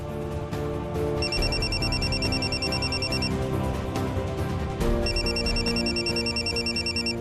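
A telephone in a Marathi TV serial rings in two long bursts of repeated electronic trilling, loud and close over a steady background bed.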